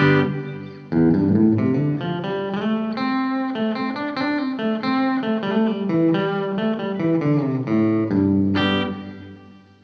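A tonal electric instrument phrase runs through a spring-style reverb effect from the Aural Dream Listen Reverb plugin, bright and sustained with a splashy, metallic tail, loud and alone for about ten seconds.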